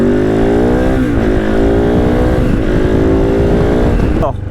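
A Kove 450 Rally converted to supermoto rides hard, its single-cylinder engine droning loud and steady with rising pitch sweeps as it revs up through the gears, close and continuous.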